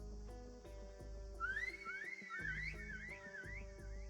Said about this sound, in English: He whistles, signaling the guards to begin their massacre.